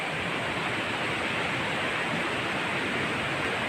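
A river rushes in a constant, loud wash of water noise that stays unbroken from start to finish, heard close and alone without talking.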